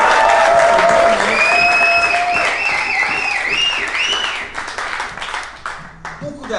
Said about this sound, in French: j'aimerais faire qu'on donne un tonnerre d'applaudissements à M.